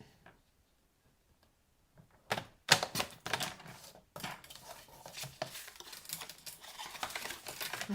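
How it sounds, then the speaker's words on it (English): A paper trimmer slices through cardstock in crafting, a few sharp clacks and sliding scrapes close by after a quiet start, followed by shuffling and handling noises. "So I like using the trimmer when I can."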